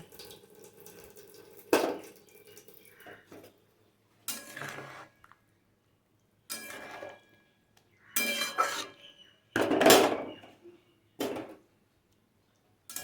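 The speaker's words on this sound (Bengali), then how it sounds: "বাটিতে যেটুকু লেগে আছে আমি একটু জল দিয়ে ধুয়ে এর মধ্যে দিয়ে দেবো" Water splashes and a mustard paste bowl clinks as it is rinsed out into a cooking pot for a thin hilsa fish curry, coming in several short, separate bursts with quiet gaps between them.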